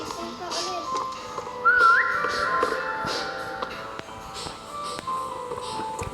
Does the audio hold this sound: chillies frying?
no